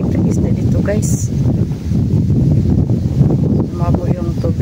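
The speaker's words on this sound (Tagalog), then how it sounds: "malakas ang hangin." Strong wind gusts blow outdoors by the water where tilapia are being fished. It is a constant low rushing roar buffeting the microphone, with a few faint higher sounds on top.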